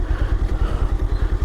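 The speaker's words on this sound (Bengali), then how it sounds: "বাইক নিয়ে এগোচ্ছে, আর এগোনো যায় কিনা দেখা যাক" A motorbike engine putters along a narrow forest track at the end of a road, a steady fast throbbing rumble with a rattling clatter, close by and alone.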